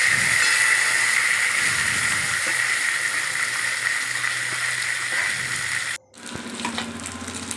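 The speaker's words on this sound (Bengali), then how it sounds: "মাথার টুকরোগুলো মুড়োগুলো লাল লাল করে ভেজে নিলাম" Fish head pieces frying in hot oil in a wok on a gas stove, giving a loud, steady hiss and sizzle that cuts off abruptly near the end, followed by softer clatter.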